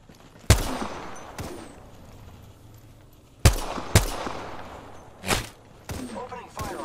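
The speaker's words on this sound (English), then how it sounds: "Opening fire on the enemy" Sharp gunfire bursts from Apex Legends combat crack out in several loud separate volleys, each dying away quickly, with a low game ambience hum between them and a final cluster of shots near the end.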